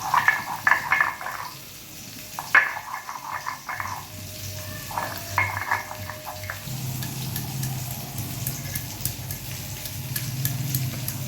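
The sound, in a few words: sardine fish frying in a pan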